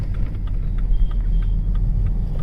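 A BMW 320d's engine rumbles steadily from inside the car as the throttle is pressed, a low, even drone with road noise and no sharp rise in pitch.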